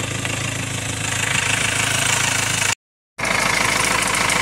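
A Ford Transit 2.2 diesel engine idling after a fuel metering solenoid replacement, a loud, steady, close rumble with a faint knocking texture, broken by a short silent gap before resuming.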